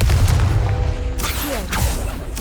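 A Confringo blasting spell explodes in Hogwarts Legacy, a dense, loud burst of booming noise that rumbles on for a couple of seconds with a second surge of blast near the end.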